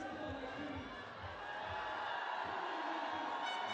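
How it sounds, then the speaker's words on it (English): A crowd at a men's bouldering World Cup final in Salt Lake City cheers and shouts steadily to spur on a climber, a dense, continuous roar heard from a distance with no single voice standing out. "The crowd now spurring him on."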